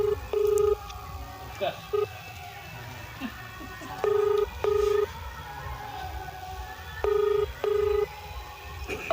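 Telephone dialing tones sound as short, clean beeps in pairs and small groups, spaced apart by pauses, with faint talk and background noise beneath them.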